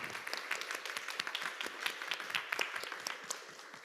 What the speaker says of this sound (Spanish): de pronto agradecerle a Mónica nuevamente un aplauso como por el trabajo realizado